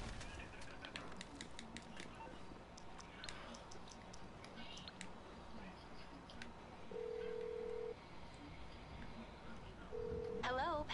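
An in-game phone in GTA 5 is dialed, giving a series of short ticking key beeps followed by sustained dial-tone bursts near the end, set against steady game background noise.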